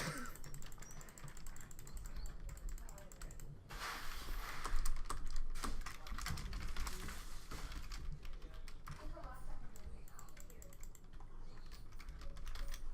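Rapid keyboard typing into a game chat during a Minecraft session, a steady patter of clicking keystrokes running the whole time with background voices and game sounds mixed in.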